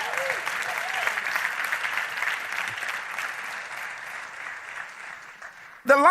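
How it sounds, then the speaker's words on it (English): Audience at an inspirational speaking event claps hands in a dense, steady wash of applause that holds for nearly six seconds before a voice cuts in sharply at the end. "everybody clap your hands"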